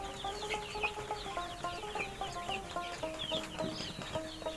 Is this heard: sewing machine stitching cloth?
no